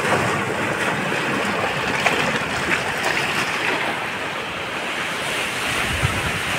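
Sea waves wash steadily onto Palshet beach at Guhagar, a continuous loud surf roar mixed with strong wind buffeting the microphone.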